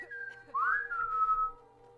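A single clear whistle in The Elder Scrolls V Skyrim, a steady tone that swoops upward and then holds a long sustained note before fading, close and alone.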